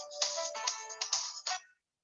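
A phone ringtone plays a bright electronic melody of several quick, clipped notes in a rhythmic pattern, fairly clear and alone, then cuts off into silence.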